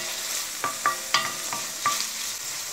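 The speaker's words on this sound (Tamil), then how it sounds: "இந்த வெங்காயம் தக்காளிக்கு கொஞ்சம் சீக்கிரம் வதங்கிடும்." Onion and tomato sauté in a pan with a steady soft sizzle, broken by several sharp scrapes and clicks of a spatula stirring, all without speech.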